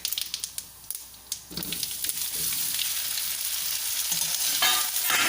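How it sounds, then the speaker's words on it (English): Sliced mutiyas fry in a pan after white sesame seeds splutter, first a few sharp spatula taps and stirs, then a loud steady sizzling hiss that builds and holds close by. "For about 5 minutes, you need to fry like this"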